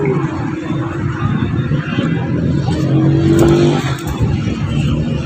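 A Toyota Hiace van's engine runs close by with a steady, loud rumble and slight revving, continuous throughout with no talk over it.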